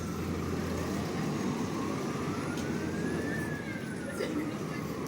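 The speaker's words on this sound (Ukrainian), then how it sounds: "Це 33-й тролейбус, він їде з площі Івана Підкови на вулицю Грінченка у Львові." Trolleybus number 33 passes along a street in central Lviv, a loud continuous rumble carrying an electric motor whine that rises and then falls as it goes by.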